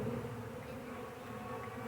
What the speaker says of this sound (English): we do have quite a few bees coming out of the box